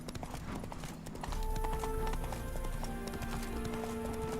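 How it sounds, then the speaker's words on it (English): Hooves of Geralt's horse clop in The Witcher 3 video game as the animal is spooked by ghosts, a quick string of hoofbeats close by that grows louder partway through and carries on to the end. "Spooking my horse."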